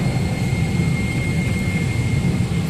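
A loud, steady roar of a jet airliner's engines fills the cabin of a flight to Thailand, with a deep rumble and a constant high whine. No one speaks.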